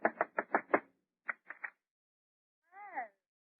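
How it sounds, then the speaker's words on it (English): Knocking on an apartment door: a quick run of five knocks, a pause, then three more, followed by a brief voiced exclamation; fairly close and clear. "Go ahead, knock on the door."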